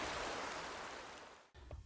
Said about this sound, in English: the ramblings of rushing water